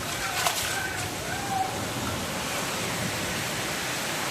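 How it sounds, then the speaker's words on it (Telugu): Heavy rain pours down during a flood that has reached the first floor of a building, making a steady, even hiss that holds at a constant level throughout. "వర్షం విపరీతంగా పడుతుంది."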